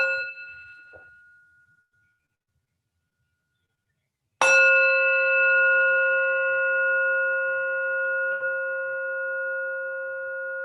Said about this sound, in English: I'm going to invite one sound of the bell as Tina comes on.